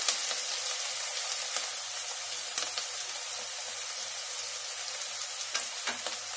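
Onions frying with salt in a pan for dal khichdi, a steady close crackling sizzle with occasional sharp pops and no talk.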